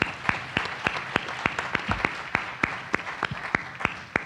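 An audience at a veterans' mental health conference applauds panelists, a steady run of sharp, evenly spaced claps ringing out clearly in a large room for several seconds.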